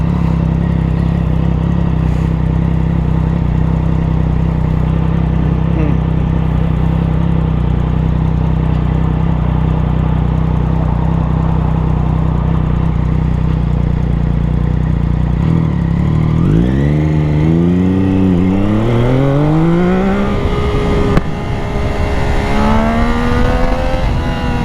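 A sport bike fitted with a new exhaust idles loudly and steadily nearby, then revs and accelerates in rising, climbing engine pitches toward the end.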